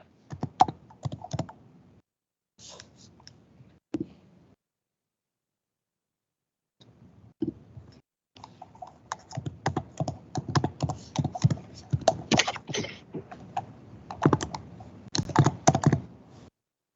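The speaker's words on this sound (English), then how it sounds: "Somebody's typing" Keys clatter in quick irregular bursts on a computer keyboard, with a brief pause midway before a dense, fairly close stretch of typing; no one speaks.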